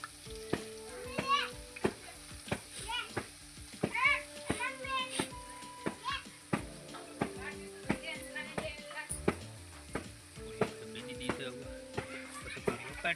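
Puris frying in hot oil at home, a soft continuous sizzle with bursts of crackling as dough goes in, under frequent chatter from adults and children and clinks of utensils.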